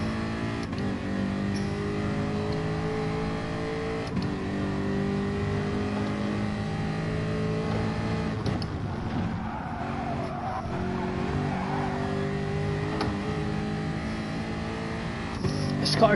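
Engine of a racing car in a driving video game drones at a steady pitch, shifting through gears with brief dips, joined by tire squeal as the car takes a corner.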